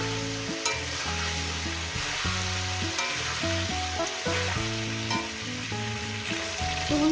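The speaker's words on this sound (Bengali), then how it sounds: "ফুলকপিগুলো দিয়ে দিয়েছি ফুলকপি আমি ওই একইভাবে লাল লাল করে ভেজে নেব" Cauliflower florets frying in a pan for an aloo-phulkopi chicken curry, a steady close sizzle throughout with low tonal music-like hum layered underneath.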